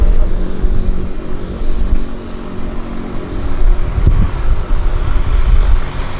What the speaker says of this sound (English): Harbour Air taxiing in.